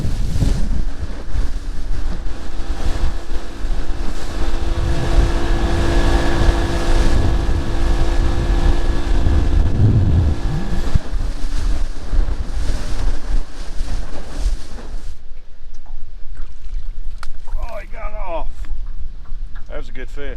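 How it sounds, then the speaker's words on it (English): Fishing boat motor droning steadily on a windy, choppy lake in December, loud and close under heavy wind buffeting and water slap, cutting out abruptly near the end to leave quieter wind and water. "I'm gonna make a little run here and try to see if I can get to another area of the lake"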